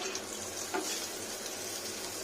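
Bitter gourd fries in a pan with a soft, steady sizzle that crackles faintly and continuously, with a brief stirring scrape partway through.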